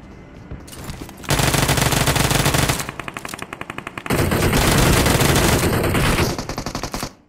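SCAR-L assault rifle in BGMI fires loud sustained automatic bursts, with short breaks between long volleys and a stuttering tail near the end, close and dominant with no talk.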